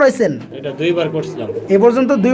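Pigeons, including a male and female pair of fancy breeds such as Tumbler, coo in low, rolling, throaty phrases close by, repeating across the moment alongside other bird sounds.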